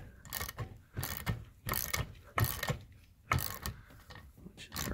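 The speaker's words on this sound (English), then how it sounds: "You're trying to spin the stud into the intake manifold." A stud is spun by hand into the intake manifold of a 1965 Mustang, giving close, irregular metallic clicks and ratcheting rattles in uneven bursts. No one talks.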